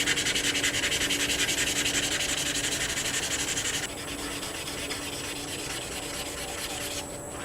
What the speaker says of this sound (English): I'm like at a 1500 right now, my sandpaper.